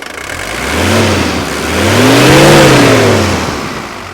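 Loud, close revving from a 1983 Mercedes 240D diesel engine, two blips of the throttle, a short one and then a longer, higher swell that falls back toward idle.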